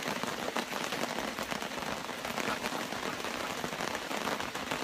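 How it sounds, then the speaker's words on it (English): Steady rain patters densely on a tarp overhead at a campsite in Jackson, Ohio, a continuous hiss of countless drops with no voices. "It's raining again."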